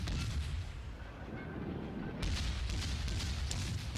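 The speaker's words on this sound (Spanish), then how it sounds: "Le seguimos disparando con todo, con todo lo podemos" Naval guns fire in World of Warships, playing a German cruiser Kolberg, giving a continuous rumbling barrage of booms that swells louder partway through, with no speech over it.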